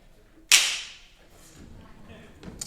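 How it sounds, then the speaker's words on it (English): A whip (slapstick) from a symphonic band's percussion section cracks once, a single sharp loud snap with a short decaying tail, followed by quiet hall ambience. "It's a whip. Let's hear what that sounds like."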